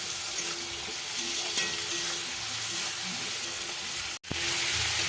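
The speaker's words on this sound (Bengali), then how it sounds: "প্রথমে জিরে ফোড়ন দিয়ে তারপরে পেঁয়াজটাকে ভালো করে ভাজা ভাজা করে নিতে হবে" Onion frying with cumin seeds in a pan gives a steady, loud sizzle with faint stirring scrapes, close and alone without voices, broken by a brief dropout near the end.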